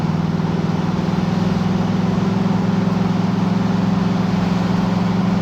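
A 1976 Pontiac Trans Am V8 cruises at about 45 mph under partial throttle, a steady loud low drone with a firm pulsing hum and no speech over it.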